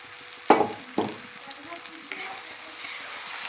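Potato and onion with ground mustard, chili and ginger paste stirred in a frying pan for a Bengali fish-and-potato dish: two sharp spatula scrapes over a steady sizzle that grows a little louder and hissier toward the end.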